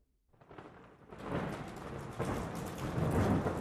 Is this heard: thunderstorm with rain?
yes